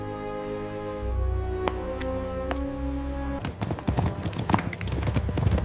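Horses' hooves as messengers ride through the night, a few sparse clops at first, then a quick galloping clatter of many hoofbeats over a low droning music bed.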